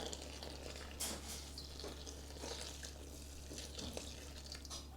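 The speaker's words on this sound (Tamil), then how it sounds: "இப்போ சுடு தண்ணி இதுக்குள்ள விடுறேன்" Hot water pours steadily into a bowl of flour for kozhukattai dough, a soft continuous splashing over a low steady hum, with a few brief clinks.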